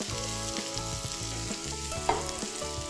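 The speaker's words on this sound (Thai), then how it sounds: "พอกระเทียมเริ่มหอมนะคะก็ใส่ผักลงไปค่ะข้าวโพดอ่อนนะคะ" Baby corn and carrot stir-fried with garlic in a pan, giving a steady loud sizzle with rhythmic scraping strokes of the spatula throughout, close up and with no talking.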